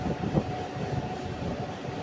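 A MEMU passenger train rolls into the platform at Ramagundam station with a low, steady rumble and rattle, close by and with no voices.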